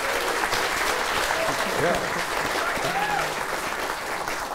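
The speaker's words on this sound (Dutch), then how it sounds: "En dan ook natuurlijk een daverend applaus voor de bottom bitch van deze Hugh Hefner" A live comedy show audience gives steady, dense applause for the comedians throughout, with a voice speaking loudly over it.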